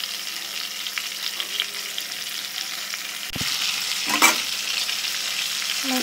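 Rui fish fries in hot oil with a steady low sizzle, then a sharp clatter and a louder burst of spitting as the fish is flipped in the pan.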